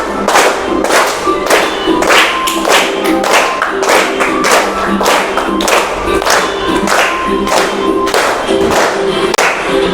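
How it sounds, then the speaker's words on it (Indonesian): A roomful of people claps hands together in a steady, evenly spaced rhythm, close and loud, keeping a regular beat for the whole stretch with a faint tonal hum underneath. "Tepuk tangan semuanya"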